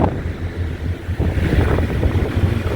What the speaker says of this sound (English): It's just a little windy right now.